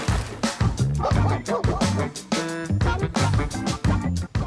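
A dog barks repeatedly in quick, excited yips and bow-wows, close and loud, with whimpering tones between the barks.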